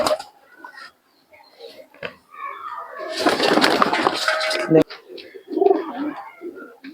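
Soft, low pigeon coos come and go at a pigeon flying tournament, with a burst of rustling, flapping noise in the middle; fairly quiet overall.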